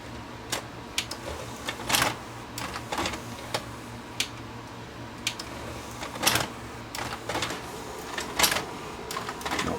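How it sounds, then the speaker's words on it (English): A Sharp VC90 multi-system VCR with a suspected slipping belt pushes a tape back out, giving a string of sharp mechanical clicks and clacks at an irregular rhythm, close and fairly loud with no talking. "It's kicking the tape back out."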